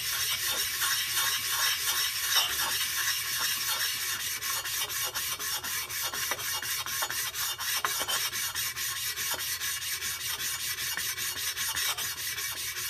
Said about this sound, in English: this is just basically how you stone stuff to make it nice and smooth and clean again